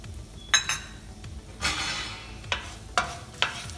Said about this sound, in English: the oil is hot and we're going to add cumin seeds